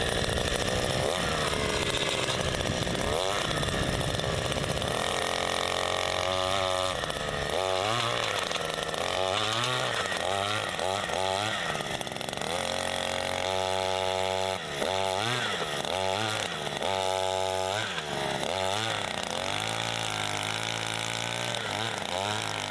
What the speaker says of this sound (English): the soil gets soft enough so that the auger can displace the stones and drill a hole